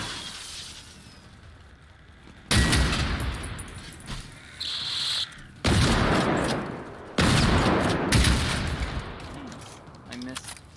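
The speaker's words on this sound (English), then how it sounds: "Two shots with the shotgun" A shotgun fires in the video game Generation Zero, several loud, booming blasts spaced a second or two apart, each with a long rumbling tail, over a quieter game background.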